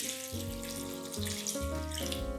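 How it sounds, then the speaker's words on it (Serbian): About half a liter of water is poured over arranged chicken pieces in a baking dish, a close, continuous gurgling pour whose pitch shifts in stepped waves as the dish fills. "pour in water."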